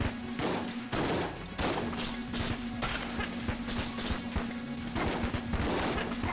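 Skeleton enemies in Enter the Gungeon fire their guns in quick repeated bursts, sharp cracks recurring through about six seconds over a steady humming game background.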